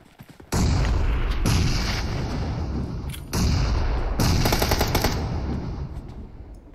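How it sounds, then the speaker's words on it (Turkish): Loud bursts of rapid automatic gunfire and heavy booming blasts from bombs in the battle royale game PUBG Mobile, in two long sustained volleys separated by a brief dip, dense and close with no voices. "Bomba geldi."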